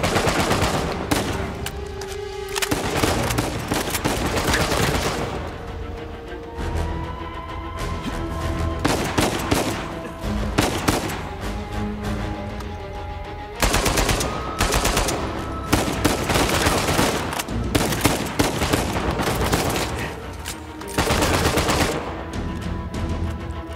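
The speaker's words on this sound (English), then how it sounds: "Why are we shooting?" Sustained bursts of automatic gunfire from a shootout in Uncharted 4, rapid and loud, with brief pauses between volleys and distant booms mixed in.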